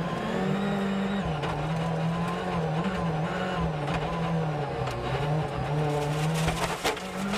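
Rally car driving a stage at Rally Monte Carlo, its engine a loud continuous drone wavering with throttle changes, with scattered clicks and gravelly bumps near the end.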